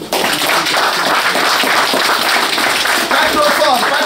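Guests at an engagement party break into loud, sustained applause and cheering, a dense wash of clapping close by with voices mixed in throughout.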